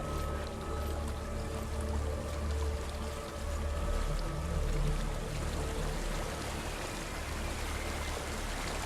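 Waterfall in the game Hellblade: Senua's Sacrifice gives off a continuous broad rushing roar with a deep rumbling low end, steady and fairly loud throughout the scene with no one speaking.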